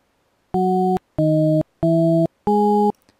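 Four separate synthesized notes, each about half a second long, are played in LMMS with a clean buzzy tone. They come in an even rhythm with short gaps between them, and each note is panned to a different side, left or right.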